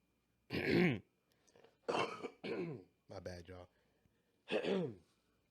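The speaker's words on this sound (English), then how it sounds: "About to cough again." A person coughs and clears their throat several times in a row, close and fairly loud, in a series of rough separate bursts with short pauses between.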